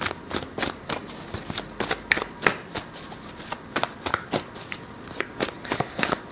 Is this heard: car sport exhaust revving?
no